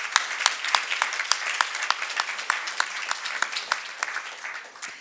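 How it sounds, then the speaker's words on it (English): A crowd applauds a Global Citizen panel at an education-in-emergencies forum with steady, crisp clapping for about five seconds, individual sharp claps standing out from the dense wash. "Can we first give a nice round of applause for our fabulous Global Citizen panels?"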